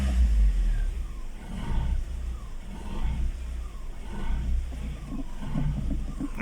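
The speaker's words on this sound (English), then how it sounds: "That's me pumping the brakes and no change in idling." Vauxhall Corsa engine idling steadily while the brakes are pumped, a low continuous rumble with slight rhythmic swells and no change in pace, close and fairly loud throughout.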